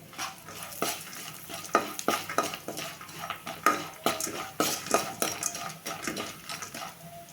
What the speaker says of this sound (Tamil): வரமல்லி போட்டுக்கலாம் இளறி விட்டுக்கலாம்